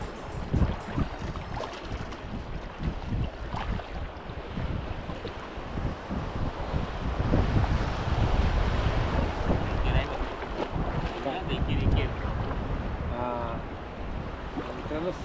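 A fishing boat sits at sea off the Konkan coast during mullet net fishing. Wind buffets the microphone over a continuous wash of waves, and the noise swells louder midway.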